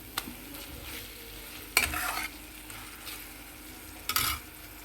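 Chicken frying in a pan for a milk chicken curry, half a kilo in a small pan, stirred with a utensil; scraping strokes and sizzle bursts come in short clusters over a steady frying hiss, with no talk.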